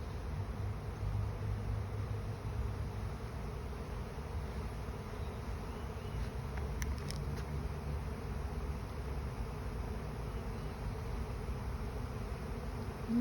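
A honeybee swarm moving into a hive makes a steady, dense buzzing hum that holds evenly throughout with no talking.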